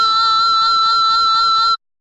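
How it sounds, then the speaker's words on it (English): Bright, bell-like guitar harmonics ring in a sustained, shimmering chord with slight rhythmic pulsing, then stop abruptly. "It's the sound of guitar picking harmonics."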